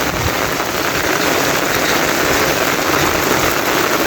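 Heavy rain pours steadily in Dhobaura, a dense, loud, unbroken hiss of drops drumming on surfaces, close and alone without any talking.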